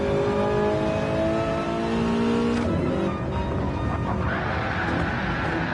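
A race car in a Le Mans racing video game, its engine screaming at high revs through a drift, then dropping and climbing again, loud and close.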